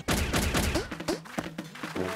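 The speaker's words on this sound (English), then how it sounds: "Use your launcher to send them some real bouncy balls." A cartoon launcher fires bouncy balls in a rapid volley of punchy, loud shots, followed by springy, boinging bounces that trail off.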